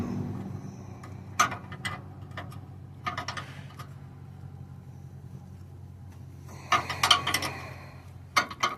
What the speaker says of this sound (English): Tighten up these two bolts right here,